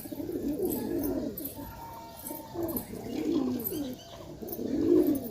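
Madrasi pigeon chicks call with soft, low cooing bursts, repeated every second or so, close and fairly loud, with no talking over them.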